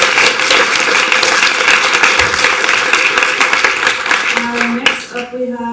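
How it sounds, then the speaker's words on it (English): An audience at a national assembly in Düsseldorf applauds steadily with dense clapping, loud and close, and the applause thins out near the end. "and you can applause."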